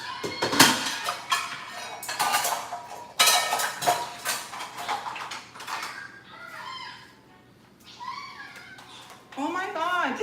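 Metal cutlery and kitchen utensils clatter and scrape loudly in a home kitchen while someone rummages for an ice cream scoop, in irregular bursts of rattling and clinking. A person talks during the second half.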